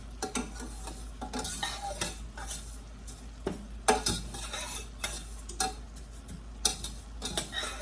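Beef enchilada filling being stirred in a pan, with a steady sizzle and frequent scraping strokes of the spoon against the metal, close and clear, no talking.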